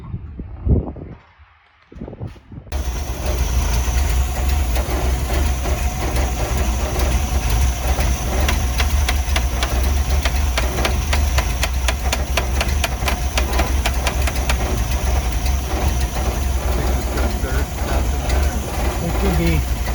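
A 1968 Kaiser Jeep M715 engine idles close by after a brief quieter start, settling into a steady, rough, low rumble with a rapid mechanical ticking that runs on unbroken.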